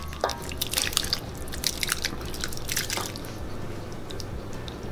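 Thick gravy is poured onto a big stack of biscuits, heard as a continuous wet dripping and splattering with soft squishy plops, close and steady throughout.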